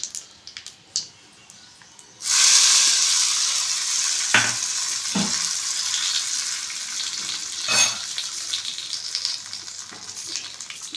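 Wheat rava upma cooking in a pan, a few faint clicks then a sudden loud, steady frying sizzle rising close by, with occasional sharp knocks from a spoon against the pan.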